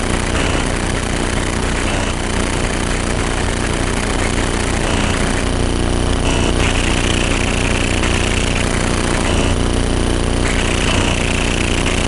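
Light aircraft engine droning steadily while taxiing to the runway, a loud continuous mid-pitched hum heard from inside the cabin with no talk.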